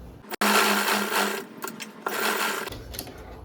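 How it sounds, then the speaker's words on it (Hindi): A sewing machine stitches a pant pocket in shape, running in steady bursts with brief pauses between them, close and clear with no talk. "अब इसी शेप में हम सिलाई लगाएंगे।"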